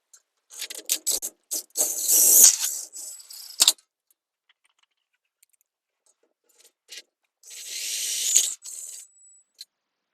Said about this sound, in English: we can now attach the view track to the view guide using the 4-inch attaching screws